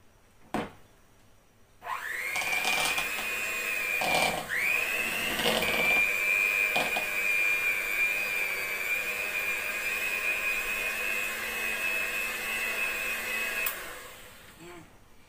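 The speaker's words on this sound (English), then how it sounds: "then just use the hand mixer" An electric hand mixer whirs to life and runs steadily while blending cake frosting, a loud, close, sustained high whine with a few knocks of the beaters against the bowl, then it cuts off near the end.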